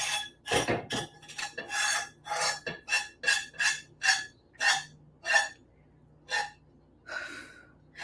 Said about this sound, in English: the pan is kind of burnt, so I'm just gonna scrape all this off